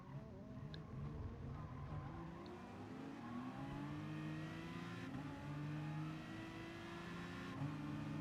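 A V12 race car at Monza in the GT Sport video game drones steadily at full throttle, its engine pitch climbing through the gears with brief shift dips, loud and continuous throughout.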